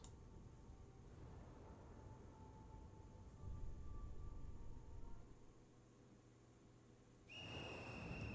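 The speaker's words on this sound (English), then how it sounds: "As the monstrous little raincoat visitor blows his whistle, he steps back into the shadowy darkness." A monstrous little raincoat-clad visitor in Ghostwire: Tokyo blows a whistle, a steady high tone held over dark ambient game noise, with a sharp brighter blast near the end.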